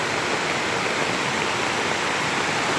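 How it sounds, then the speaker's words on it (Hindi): Roaring waterfall in Nainital, a steady dense rush of falling water filling the whole moment, loud and close with no pauses. "आपको पानी की गड़गड़ाहट की आवाज़ सुनाई दे रही होगी।"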